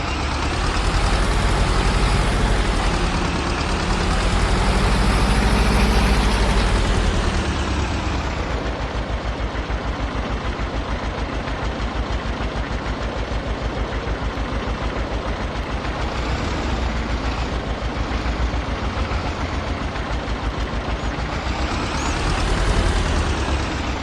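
Tractor engine warming up in Farming Simulator 22, a loud continuous diesel drone with a rough idling rumble that swells slightly and settles, running alone without speech.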